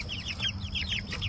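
Buff-laced Polish chickens cluck and chirp in a quick repeating series of short calls, close and moderately loud over a low steady background rumble.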